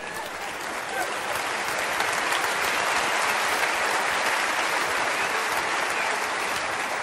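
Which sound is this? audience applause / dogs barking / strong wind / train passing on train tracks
audience applause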